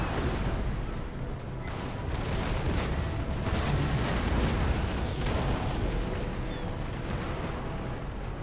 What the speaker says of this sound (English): get a good broadside off into the masts of that second rate